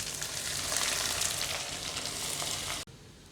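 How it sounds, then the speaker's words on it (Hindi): Onions fry toward light brown in a pan for a turnip and milk dish, a loud, dense crackling sizzle held steady for a few seconds before stopping abruptly, no one speaking. "सबसे पहले हम प्याज को लाइट ब्राउन कर लेंगे"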